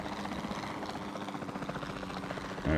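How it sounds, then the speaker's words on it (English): Helicopter in the video game Jurassic World Evolution 2, a steady whirring, rumbling drone with fast rotor chop, moderately loud and continuous, swelling slightly at the end, with no talk. "The helicopter will allow us to just quickly dart that one."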